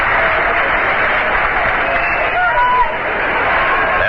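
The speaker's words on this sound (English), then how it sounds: "Stone's getting a hand from the Shea Stadium crowd." Shea Stadium crowd applauding batter George Stone at a 1973 NLCS Game 4 Mets vs. Reds baseball game, a steady, loud wash of distant clapping and cheering across the whole stretch, with a few brief whistles.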